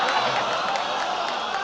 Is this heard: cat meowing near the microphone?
no